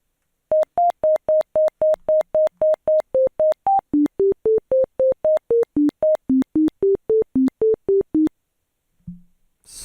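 A C# console musical calculator plays a rapid series of short, evenly spaced electronic beeps at shifting pitches as keys are entered, about thirty clean tones in a row, followed by silence and a brief low sound at the end.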